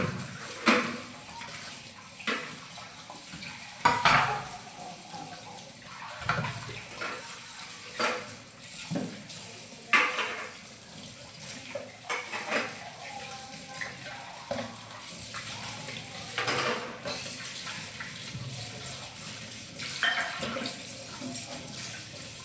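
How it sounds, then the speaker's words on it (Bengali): Dishes are scrubbed and rinsed under a running tap in a home kitchen. A continuous water stream runs beneath scattered clinks and knocks of utensils for over twenty seconds. "তো এই যে দেখো এখানে বাসন মেজে নিচ্ছি"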